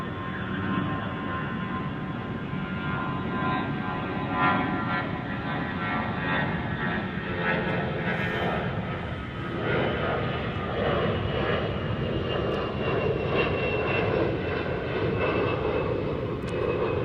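A Delta Airbus A320 jet departs runway 36 right at DFW in extreme heat, giving a steady, loud broadband engine roar that holds evenly through the clip with no talking.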